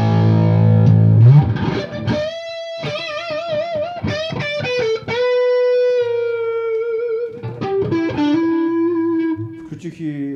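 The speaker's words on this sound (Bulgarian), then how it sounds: "Това е вградяната резачка на усилателя на Коначиев, която звучи мега брутално." Electric guitar played through the built-in distortion of a PJK Acoustic GA 50 amplifier, loud gritty chords and sustained bending lead notes with vibrato, in separate phrases with short gaps between them.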